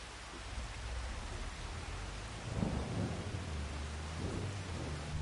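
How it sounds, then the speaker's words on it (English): Rain and thunder in the video game Farming Simulator 25: a steady hiss of rainfall with low thunder rumbles swelling twice, no voices. "It's raining."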